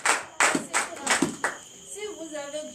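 Worshippers at a night prayer service clap in a brief rhythmic run of about six strong claps, then fade as a voice and faint sustained tones take over.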